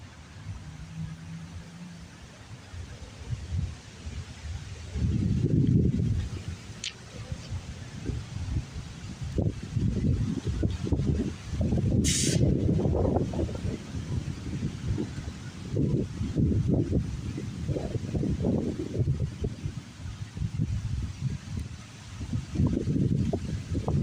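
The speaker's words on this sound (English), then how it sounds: "It's breezy out here" Breezy outdoor wind gusting against the microphone, low rumbling buffets that swell and fade over a soft noisy background, strongest in the middle stretch.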